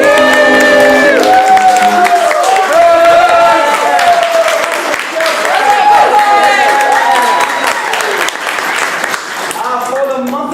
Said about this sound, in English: Give a round of applause for Michael David.